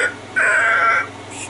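A woman imitates a bird's mating call in a movie scene, giving one sustained, harsh crow-like caw that is loud and alone.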